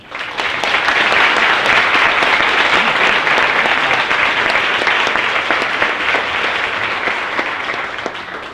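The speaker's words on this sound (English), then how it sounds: "Can we give our seniors another round of applause?" Sustained, loud applause from a large crowd at a school event honoring seniors, steady clapping that fills the whole stretch and tapers slightly toward the end, with no talking over it.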